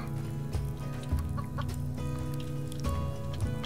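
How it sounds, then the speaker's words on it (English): Chickens clucking in the survival video game Subsistence, soft repeated clucks scattered over a steady low background hum, fairly close and with no talking. "Chickens!"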